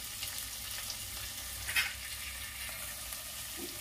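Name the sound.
ginger, garlic and dried chillies frying in pan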